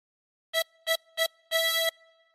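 On a tremolo harmonica, the same high note from hole 11 sounds four times: three short blows, then a longer held one, clear and close with a shimmering reedy tone and no voices.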